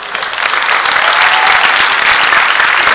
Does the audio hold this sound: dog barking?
no